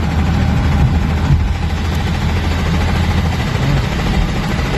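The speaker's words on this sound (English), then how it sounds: "I think the Street Stang engine is knocking" A Street Stang car engine with a knocking fault runs continuously, a dense low rumble and vibration with faint irregular taps beneath, heard steady and close from inside the moving car without talk.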